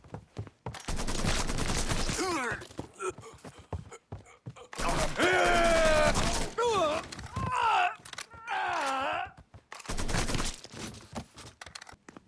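Gunfire in the video game Mafia 3 comes in loud, sustained bursts, mixed with shouting and groaning voices between the volleys.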